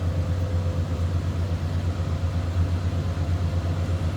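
A 1978 Ford F-250 crew cab truck with a 460 V8 idles steadily, a low, even rumble held close and constant throughout with no talk over it.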